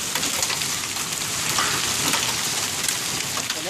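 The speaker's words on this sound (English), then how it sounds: "it's hailing like a mofo right now" Hail falls hard during a storm, a dense, continuous hiss and patter of stones striking the ground and nearby surfaces, steady and fairly loud with sharp scattered impacts throughout.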